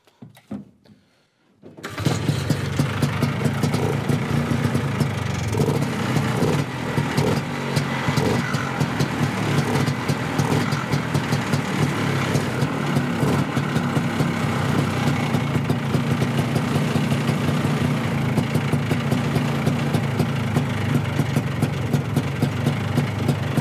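A Ski-Doo 302 snowmobile engine sputters to life after a quiet start, then idles loud and steady with a rough, throbbing rhythm for the rest of the clip, with no talking.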